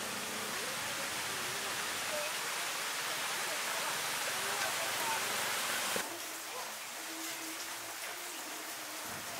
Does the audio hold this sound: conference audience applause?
no